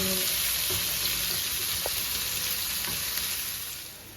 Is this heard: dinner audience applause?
no